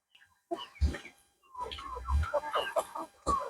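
Backyard poultry cluck and call close by in short bursts, several hens murmuring and squawking in an uneven rhythm with brief pauses between.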